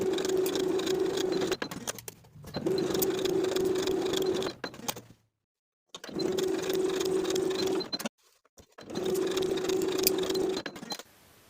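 A sewing machine runs shoulder seams on a dress bodice in three steady, close bursts of whirring stitching of a few seconds each, separated by short silences and quiet handling clicks.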